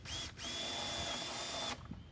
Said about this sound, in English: I'm using a 3/8 inch drill bit